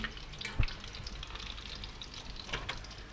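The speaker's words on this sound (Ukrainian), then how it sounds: "Тут у нас ще готуються відбивні" Pork chops and cutlets fry quietly in a pan, a faint, steady crackle and sizzle with a couple of soft clicks or taps.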